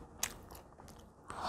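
Crunchy bites and chewing on food at a meal, a few quick close crisp crunches over a short moment, fairly quiet, with no talking.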